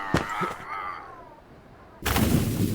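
Gunshots in the video game Lost in Blindness: a sharp, loud blast at the start, a brief quieter lull, then a heavy burst of gunfire.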